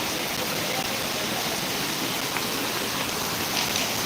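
Heavy downpour in Dantiwada taluka: a steady, dense hiss of rain falling close by, even and unbroken throughout with no voices.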